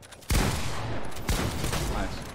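Rapid bursts of Fortnite gunfire crackle over a dense, continuous background roar, with a couple of sharper shots standing out.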